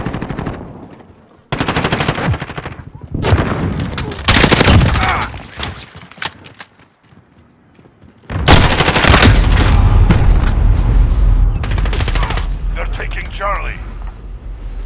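Heavy automatic gunfire rattles in long loud bursts in Call of Duty Modern Warfare multiplayer, with mechanical clatter and a short quiet gap midway, and radio-style voices speaking over the action.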